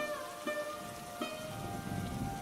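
Steady rain pours down in a continuous wash with a few faint drips standing out, and a thin tonal hum sits underneath; no one speaks.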